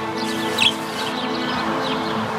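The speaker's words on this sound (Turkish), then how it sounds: "Benim uğrum bu kuşlar." Pet birds indoors give a few small, light chirps against a quiet room hum, with one slightly brighter call near the start.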